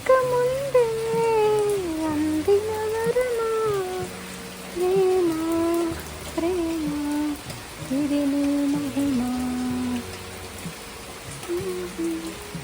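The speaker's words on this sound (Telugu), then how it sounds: "వర్షం పడుతోంది ఫ్రెండ్స్ చూసారు కదా ఫ్రెండ్స్" Steady rain hisses in the background while a voice hums or sings a wavering melody over it.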